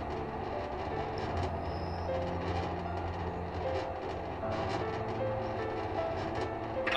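A tram climbing a mountain in the physics puzzle video game Human Fall Flat gives a steady, continuous rolling rumble with a faint rail-like rattle, holding an even loudness throughout.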